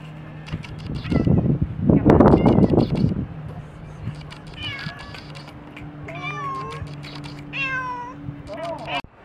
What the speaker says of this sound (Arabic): أول مرة أشوف قطة حولة.